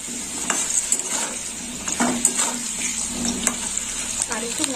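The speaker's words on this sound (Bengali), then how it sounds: "আলুগুলো একটু লাল লাল করে ভেজে নেব।" Potatoes fry in oil in a wok, a steady hissing sizzle with frequent clinks and scrapes of a spatula stirring against the metal pan, close and continuous.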